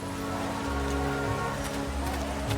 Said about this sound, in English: my footsteps falling heavily on the wet, rain-soaked pavement.